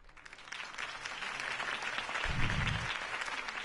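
Steady crowd applause in a Batman video game fills the space, a dense wash of many hands clapping at an even level throughout, sounding somewhat distant and processed.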